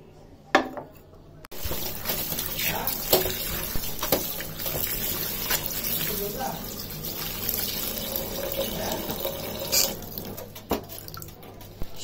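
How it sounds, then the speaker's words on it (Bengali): Leafy greens are washed under running water, with a steady rushing stream, splashing and occasional knocks of a vessel, and a brief soft clatter at the start. "শাক ধোয়া হয়ে গেল"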